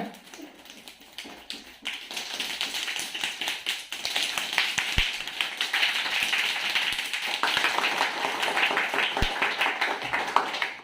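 A group of people claps hands to imitate rain, building from light scattered taps into a dense, steady patter of many small claps, loud and sustained throughout.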